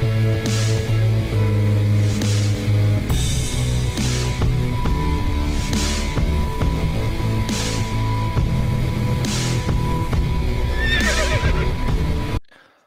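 Horse in the video game Star Stable Online neighing repeatedly, several loud whinnies spaced a couple of seconds apart over a steady game music bed, ending abruptly.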